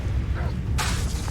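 A Confringo spell in Hogwarts Legacy lands as a short burst of hissing noise over a steady low rumble of background game sound.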